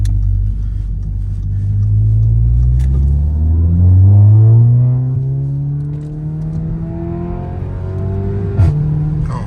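An Audi S3 with a 2-litre engine and a gutted catalytic converter revs up loudly and close, with a deep rumbling exhaust climbing and then easing off before a sharp final blip.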